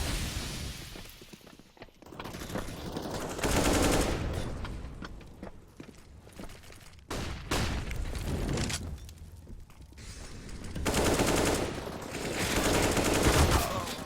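Gunfire in CS:GO during a match, loud clustered bursts of shots and mechanical clatter in several waves with short quieter gaps, and no voices over it.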